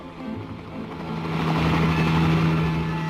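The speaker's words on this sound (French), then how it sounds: "Ces hélicoptères sont aux pirates du fond des temps." Helicopters in an animated series approach with a steady droning engine and rotor hum that swells from moderate to louder and stays sustained, with no speech.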